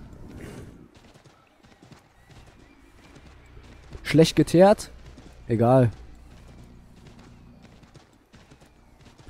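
Hooves clip-clop faintly in Assassin's Creed III while someone speaks German over them, with a short burst of louder talk in the middle of the otherwise quiet stretch.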